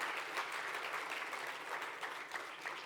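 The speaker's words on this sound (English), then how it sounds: "I think we can clap our hands." Quiet, distant applause from a conference audience after a talk on decentralized finance, a steady soft patter of many hands with no voices.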